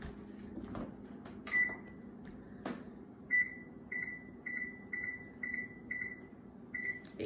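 A kitchen oven's control panel being set to 425 degrees, a series of short evenly spaced electronic beeps with a couple of louder clicks or knocks between them, quiet and close with no speech.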